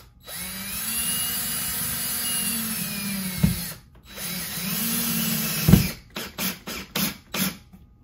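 A power drill drives a screw into a wall stud for a guitar wall mount, two long whining runs that bog down and stop, followed by several short bursts of tightening.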